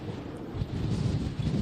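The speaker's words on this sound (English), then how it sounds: "we're right near Santa Monica as these winds pick up and howl again" Strong gusts of wind roar and buffet the microphone near Santa Monica during the Los Angeles firestorm. The dense, rumbling howl is continuous and fairly loud for the whole stretch.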